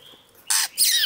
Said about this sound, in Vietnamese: Bé này rất là mập, chim mép nè.